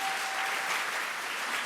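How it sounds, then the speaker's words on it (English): An audience at a chamber of commerce luncheon applauds Maryland Governor Wes Moore with steady, full clapping that holds at an even level from start to finish. "That deserves an applause as well"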